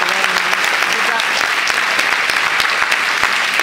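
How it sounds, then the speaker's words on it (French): A live pop concert audience applauds warmly, with crisp individual claps standing out from a thick, continuous ovation heard close and loud. "Applaudissez-la, s'il vous plaît"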